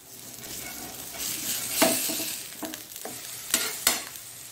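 A capsicum protein bite mixture cooks in a pan over a low gas flame, giving a steady soft sizzle broken by several sharper scrapes and stirs of a spatula.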